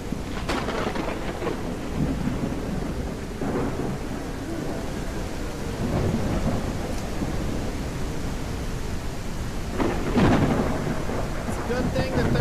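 A thunderstorm with steady rain in the survival game Mist Survival: continuous loud rainfall with repeated rumbling thunder rolls, the biggest crash arriving near the end.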